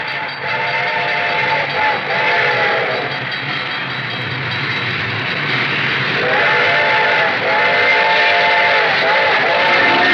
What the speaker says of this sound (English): The train was coming closer. I could hear its bell ringing and the cry of its whistle.